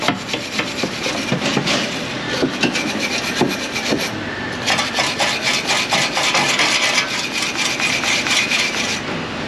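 A welded stainless steel part is brushed to a shine: steady, close, gritty scrubbing strokes run without a break, with a raspy rhythmic texture throughout.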